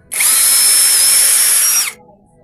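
A Keelat cordless drill boring a hole runs at a steady high-pitched whine for nearly two seconds, loud and close, then stops abruptly and leaves a faint background.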